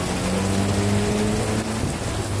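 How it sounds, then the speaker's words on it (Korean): Heavy rain pours down in Guam around a rented open-top convertible, a dense, loud, constant hiss with a low rumbling hum beneath, and no voices. "비가 이렇게 엄청 오고 있습니다."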